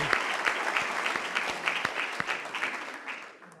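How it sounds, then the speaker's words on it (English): Audience applause at a forum honoring a speaker, a steady wash of many hands clapping with a few sharper claps standing out, fading slightly toward the end. "let's give him a round of applause"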